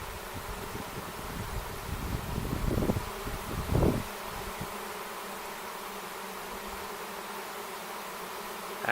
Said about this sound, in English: Actually, it doesn't look like a bad-sized swarm.